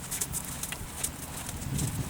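Horse hooves clip-clopping during a riding lesson, a steady run of moderately near hoof strikes over a noisy outdoor background, with no talk.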